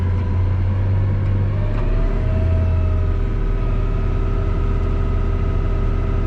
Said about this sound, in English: So I'll rev up the tractor.